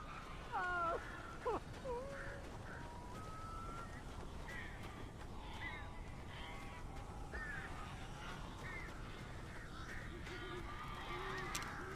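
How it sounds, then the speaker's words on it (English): Birds honk and squawk in a cabin in the Alan Wake video game, with a few clear, fairly close calls in the opening two seconds, then scattered fainter cries over a steady hum of background noise. "A couple of them got in here before I blocked the chimney. This isn't normal. These birds are weird."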